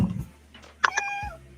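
A house cat meows once, a short rising-and-falling call that stands out clearly over low room hum and faint background noise.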